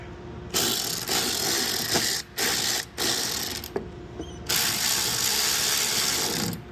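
A 3/4 inch bolt is driven in with a 4mm Allen bit while installing splash guards on a 2023+ Jeep Gladiator, giving steady mechanical ratcheting bursts broken by short pauses, close and fairly loud with no talk.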